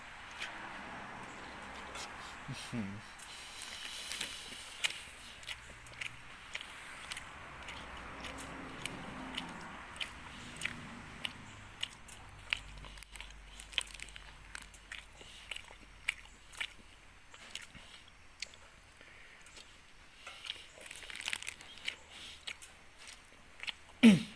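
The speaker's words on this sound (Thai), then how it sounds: "ต่อไปลูกชิ้นกินกันเลยนะครับ" Someone eats meatballs close up, with repeated soft bites and chewing crunches in an irregular rhythm over quiet background.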